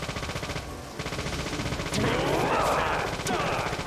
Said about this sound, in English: All right, back to shooting.